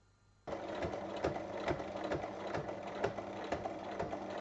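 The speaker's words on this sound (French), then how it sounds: "On fait une surpiqûre de chaque côté." A sewing machine topstitches a fabric pouch, starting abruptly and then running at a steady, fast rhythmic clatter of needle strokes, close and alone.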